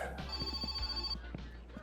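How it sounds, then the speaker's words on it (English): A telephone rings inside a car in the game My Winter Car, a steady trilling bell tone lasting about a second over a low engine-like rumble, with no speech. "Telephone's ringing in the car."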